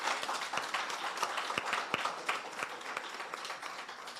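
An audience at a trade expo seminar applauds steadily, many hands clapping in a dense, even patter with a few sharper claps standing out, no speech over it.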